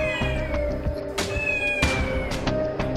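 A pet cat, one of dozens kept in a home, meows loudly and repeatedly up close in drawn-out, plaintive cries with no talking.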